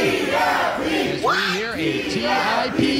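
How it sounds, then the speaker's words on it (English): A wrestling crowd at a 901 Wrestling show chants for T.I.P., a dense roar of many voices rising and falling in rhythmic shouts, loud and continuous throughout. "Yeah, the crowd all over T.I.P. chant."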